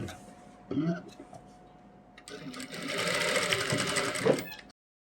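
A sewing machine runs in bursts while stitching an Afghani salwar, its motor whirring at moderate volume and speeding up toward the end, with faint talk and handling noises around it.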